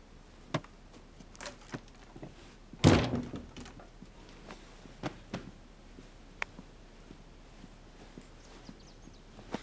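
A door being shut in an indoor drama scene, giving one sharp, loud thump near the start, followed by quiet room tone with a few faint knocks and ticks.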